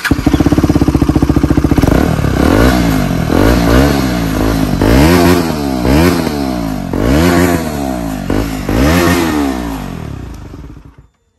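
A motorcycle engine revs repeatedly and loudly up close, each throttle blip rising and falling in pitch, then the engine cuts off.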